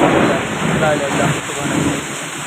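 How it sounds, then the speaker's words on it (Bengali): Heavy rain pours down in a dense, continuous hiss, steady and close throughout, with thunder in Comilla. "প্রচন্ড বৃষ্টি হইতেছে এই যে দেখুন বৃষ্টি চলতেছে সাথে আকাশের ঘুম ঘুম আওয়াজ"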